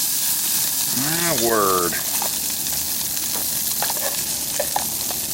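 Spam sizzling in oil in an anodized aluminum camp pan, a steady loud frying hiss throughout, with a brief spoken exclamation near the start.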